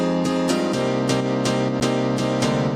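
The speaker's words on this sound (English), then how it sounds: "I've got 2 pianos here. I've got the Korg M1," A Korg M1 piano, processed with EQ and stereo widening, plays in an EDM mix as a bright, steady chord pattern over regular kick drum hits, loud and up close with no talk.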